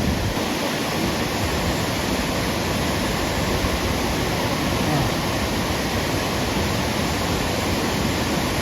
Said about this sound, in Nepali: यो चाहिँ मेरो गाउँको खोला है साथीहरू